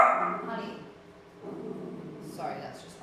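A pet dog barks indoors in a home kitchen: a loud, close yip-like bark at the start, then two more shorter barks after a pause, with a person's voice faintly mixed in.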